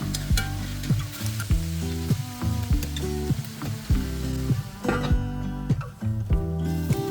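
Chicken legs sizzling as they pan sear, a loud steady crackle and hiss with clear faint music running underneath throughout.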